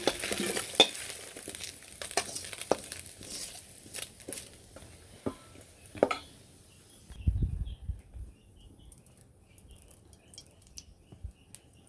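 Onions sizzle and crackle in frying oil as they are stirred, with scraping clinks, then the frying fades to a quieter hiss.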